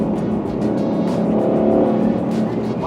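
Ford Mustang Shelby GT500 from 2020 with its V8 engine, a steady loud rumbling drone with continuous low-end growl and rising revs, close up and alone without talking.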